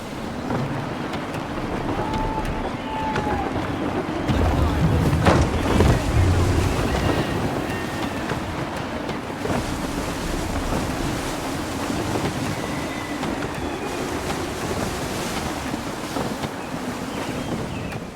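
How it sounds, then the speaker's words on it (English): Wind gusts and waves wash around a sailing ship at sea in Assassin's Creed 3, a continuous loud rushing blend of wind noise and surf with a heavier surge midway, no speech. "Wind looks to be shifting. Stay alert, Connor. Gusty winds can be difficult to manage."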